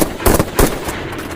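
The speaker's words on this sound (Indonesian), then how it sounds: "satu orang lagi berhasil naik ke tebing dan menembak Tom dari belakang" Gunfire in an action film, a quick burst of three or four loud, sharp shots in rapid succession with a rumbling tail between them.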